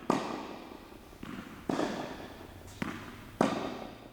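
Tennis balls popping off a racket during a rally, five sharp hollow hits spaced irregularly about a second apart, each with a short decaying ring, moderately close with faint court ambience and no speech.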